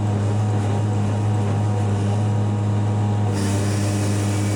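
A loud engine drones steadily at a constant pitch, close by, with a brief shift in its noisier upper tone near the end; a bent chain is skipping.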